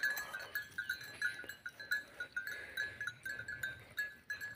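Goats or sheep being herded to graze, with a steady string of rhythmic bells ringing close by, rising and falling in pulses as the animals move, with no voices.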